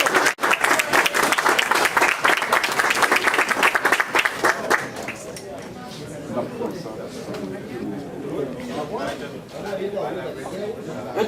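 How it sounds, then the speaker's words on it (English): An audience at a certificate ceremony applauds loudly for about five seconds, dense clapping that then gives way to murmuring crowd chatter and talk. "applaudissez, s'il vous plaît"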